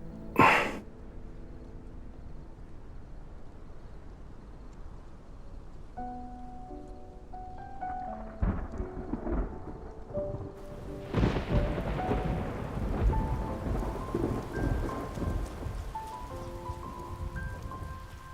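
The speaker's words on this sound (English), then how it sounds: "It's raining. Let's head inside. It doesn't usually rain cats and dogs around this time. It's getting worse." Rain and thunder in the video game Love and Deepspace: a steady rain hiss, then several deep rolling thunder rumbles and cracks building louder over the patter, with faint musical tones underneath.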